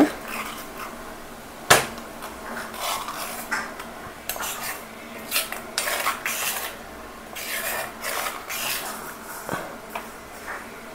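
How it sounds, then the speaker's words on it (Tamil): Ground herb paste being stirred into hot oil in a pan for a homemade hair dye oil, with a spoon scraping and clinking against the metal in irregular close strokes over a soft sizzle. "இப்போது நம்ம அரைச்சி வச்ச இந்த பொருட்களை எல்லாத்தையுமே அதில் சேர்த்துடலாம். சேர்த்துட்டு நல்லா மிக்ஸ் பண்ணி விட்டுருங்க."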